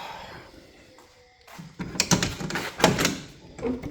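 Station wagon car doors shut in a series of solid thumps and latch clunks, close by, after a quieter stretch.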